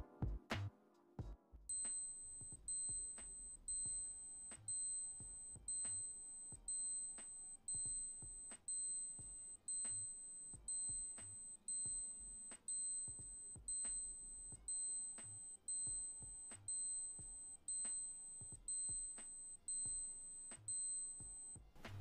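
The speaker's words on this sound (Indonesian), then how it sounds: "Dan untuk bunyi alarmnya sendiri kayak gini guys." Alarm of an Alba 7T62A-X024 analog wristwatch, a faint, thin electronic beep pattern repeating in regular bursts about once a second for over twenty seconds, close and alone after a few opening clicks.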